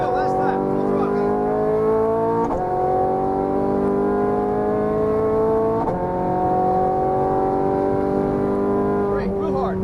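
Ferrari F430 Scuderia engine at full throttle on the final lap of a track run, a loud, steady high-revving wail with rising pitch through the gears, two brief shift breaks, and a voice speaking over it.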